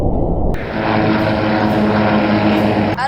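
A toy stop-motion airplane circling an island gives a loud, steady propeller engine drone that starts abruptly after a quiet moment and holds evenly close by.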